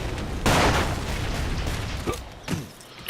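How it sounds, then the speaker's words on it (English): Grenades explode and guns fire in the blocky shooter game Ace of Spades, with a loud booming blast, a dense burst of shots and sharper pops after it over continuous battle noise. "Let's throw in grenades."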